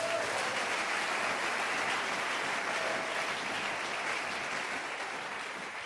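A church congregation applauds in worship, a dense, continuous clapping that fills the room evenly from start to finish, loud and steady and tapering only slightly near the end, with no voice rising above it.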